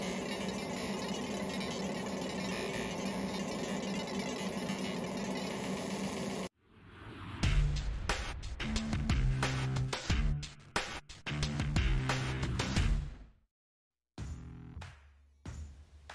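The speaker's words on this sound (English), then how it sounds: "Yes, that is the sound of the fiber laser." ComMarker 20-watt fiber laser marker running: a steady high-pitched whine with constant hum for several seconds, then a burst of clicks, taps and irregular mechanical clatter, fairly close and without speech.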